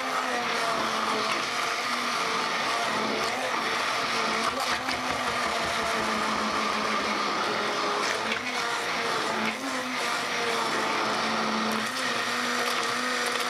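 A kitchen blender on its turbo setting churns a diet vegetable soup, a loud continuous whirring roar with slight shifts in pitch as the contents swirl, running steadily throughout without speech.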